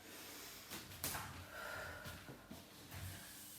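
A pole dancer exhales during a beginner fan kick move, with a few soft, brief breaths in a quiet room, one sharper puff standing out among faint rustles.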